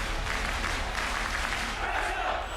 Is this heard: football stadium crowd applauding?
yes